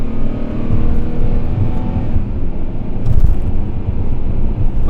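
A Dodge Challenger GT engine revs and pulls through paddle-shift gear changes from inside the cabin, a loud steady drone with wind and road noise.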